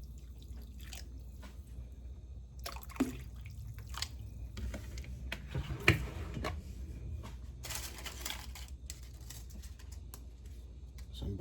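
White vinegar poured into a turkey brine makes faint, intermittent splashes and drips against a quiet background.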